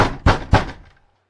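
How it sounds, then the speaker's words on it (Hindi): Three firm knocks on a door, evenly spaced and close, the last one fading into a short decay and silence. "दरवाजे पर दस्तक हुई।"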